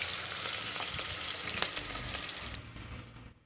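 Finely chopped large onion frying in hot oil with bay leaves for biryani, a steady close sizzle and crackle throughout with one sharp pop, fading out at the end.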